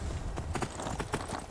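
Horse hooves clip-clop steadily in Skyrim VR, a quick uneven trotting rhythm of soft thuds over a dense game background, fairly close and moderate in level.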